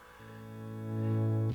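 A Fender American Ultra Luxe Vintage electric guitar with '61 Strat pickups, played through a Princeton Reverb Tone Master amp run direct, sounds a single sustained distorted chord that swells in loudness and rings steadily before cutting off.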